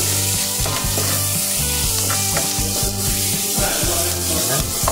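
Onions sautéing with a little salt in a pan, a steady close sizzle with occasional stirring scrapes, set against background music.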